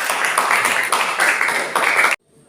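Students clap together in a classroom, a dense burst of applause with a few swelling waves that stops abruptly after about two seconds.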